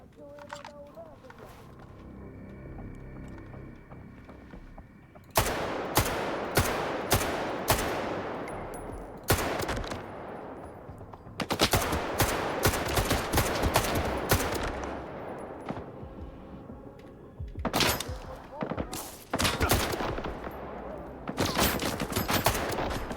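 Gunfire in the shooter S.T.A.L.K.E.R. 2: Heart of Chornobyl, with repeated loud bursts of automatic fire and sharp single shots spread across the clip, dense and close, with game ambience between the volleys.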